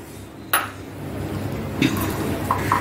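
A mixer grinder jar handled on a counter, with a few hard clinks and knocks against a soft background hum.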